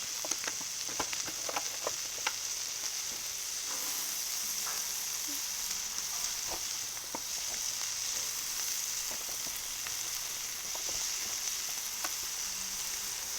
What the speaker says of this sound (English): I'm going to start adding the veg on here. So, let's see, put some peppers.